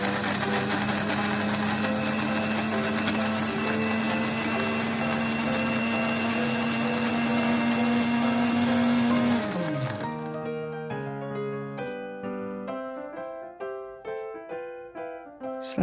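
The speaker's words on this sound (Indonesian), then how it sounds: "Blender sampai halus ya." Blender grinding garlic, dried shrimp and bird's eye chillies with a little water for pempek cuko sauce, a steady, loud whirring motor for about nine seconds that winds down and stops, followed by music.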